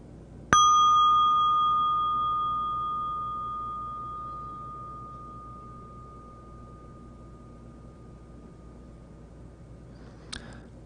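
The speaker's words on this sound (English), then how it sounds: "listen to the bell from beginning to end" A meditation bell is struck once and its clear ringing tone fades slowly over about ten seconds in a quiet room. A faint second strike comes near the end.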